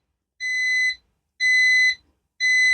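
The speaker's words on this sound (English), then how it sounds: "so that's telling us we're done, and it beeps." Three loud, high electronic beeps from an Istoyo resin bubble remover machine signaling it is done, at an even pace, each about half a second long, separated by silence.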